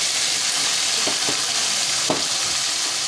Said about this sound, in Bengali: কসুরি মেথি জিরে গুঁড়ো আর যে লঙ্কাটা পেস্ট করে রেখেছিলাম এটা দিয়ে দিলাম